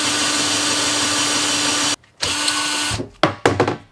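Power drill boring a 1 3/8 inch hole in a van during a DIY plumbing install, a loud steady whine that cuts out abruptly, resumes, then stutters into short bursts and stops.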